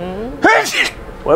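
A single sharp sneeze bursts out close by between snatches of casual talk among friends playing a game.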